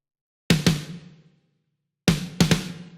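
Snare trigger sample from Yosh Warehouse, two quick flams of two sharp, bright hits each, separated by a gap of silence and decaying fast.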